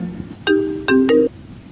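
A phone ringtone plays three short electronic melodic bursts, fairly close and clear, with quiet background in between.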